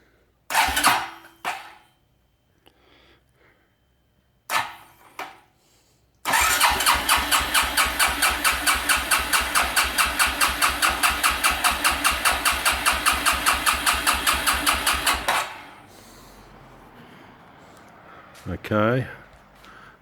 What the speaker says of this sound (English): I've got the ignition on, the kill switch on, the choke on, and I think it'll go.